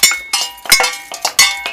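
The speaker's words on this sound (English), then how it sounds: "Let's give those instruments a good clinking." Farm implements, including a hoe, are struck together as improvised hillbilly-band instruments at a ranch, giving a run of sharp metallic clinks and clanks in an uneven, fairly loud rhythm with no talk.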